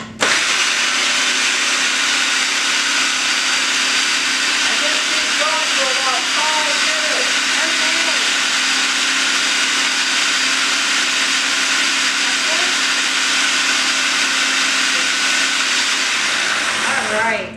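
Blender pureeing cauliflower mash, a loud, steady high whir running continuously for the whole stretch and cutting off at the end, with faint talk underneath.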